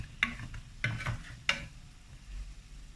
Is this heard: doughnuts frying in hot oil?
yes